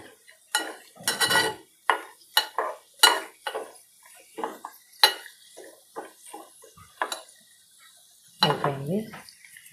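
Dry fruits roasting in ghee in a pan for malida, with scattered clinks and scrapes of a spoon stirring against the metal. The knocks come at an irregular, close pace, with a faint sizzle underneath.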